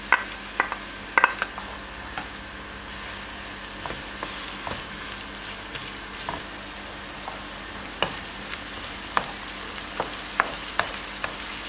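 Onions sizzle and fry steadily in hot olive oil in a pan, a continuous crackle broken by occasional sharper pops and stirring clinks, close and moderately loud with no talking.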